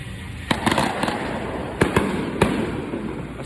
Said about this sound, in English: A street over from the fireworks